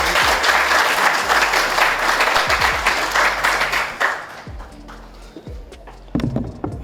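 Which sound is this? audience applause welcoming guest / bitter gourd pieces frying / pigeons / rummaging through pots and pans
audience applause welcoming guest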